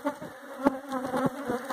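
Honeybees swarm around a hive feeder, a dense close buzzing hum with individual bees zipping past the listener, no talk over it.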